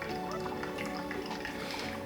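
Water drips and trickles steadily through a Hario V60 pour-over coffee brewer, a continuous close liquid patter with no talking over it.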